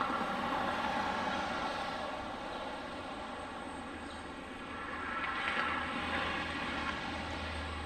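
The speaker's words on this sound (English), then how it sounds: "there's our last plane of the night, our Airbus A319, Delta 2847 from Washington's Ronald Reagan National." A Delta Airbus A319 airliner on its night arrival at Detroit Metro Wayne airport, flying in from Washington Reagan National, gives a steady, distant broadband engine roar that dips slightly midway and then swells again.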